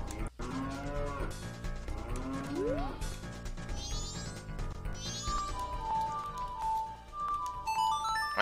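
Cartoonish cow moos from the video game Majora's Mask, several drawn-out lowing calls in a row, then bright musical jingle tones from the game over steady background music.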